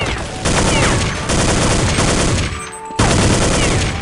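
Counter-Strike gunfire in loud, dense automatic bursts that pour out almost without pause, breaking off once for a brief gap before the shooting picks up again.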